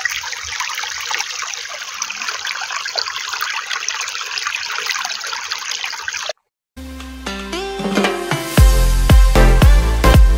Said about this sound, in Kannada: ಅದ್ರಲ್ಲಿ ನೋಡಿ ಜಲ ಹರಿತಾ ಇರೋದು ನೋಡಿ